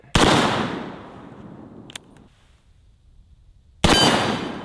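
Cap and ball revolver fires at a steel target: a loud sharp shot with a long rolling echo, a faint metallic ping a moment later, then a second loud blast near the end.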